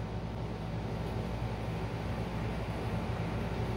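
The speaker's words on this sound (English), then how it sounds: "Slowest speed I can achieve on the spindle is 52 RPMs." An 8 x 16 benchtop lathe with an upgraded servo motor runs its spindle at slow speed, a steady low mechanical hum and drone, continuous and close, with no talking.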